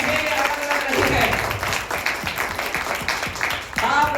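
A church congregation breaks into applause, a dense, steady wash of many hands clapping for several seconds, with voices mixed in beneath it.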